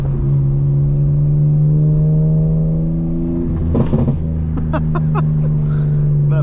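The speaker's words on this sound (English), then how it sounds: "That burble is just outrageous." Tuned and unlocked 2025 BMW M4 Competition idling warm with a steady low exhaust drone, then breaking into a loud crackling burble of pops and snaps, heard close up from the driver's seat.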